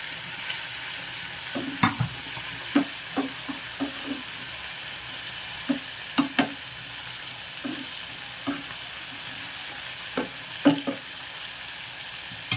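Chopped onions and green chillies sizzle in a pan for a dried fish, brinjal and raw mango curry. A steady fry hiss runs throughout, broken by sharp pops and scrapes of stirring. No one speaks.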